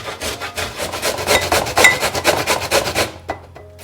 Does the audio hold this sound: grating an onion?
yes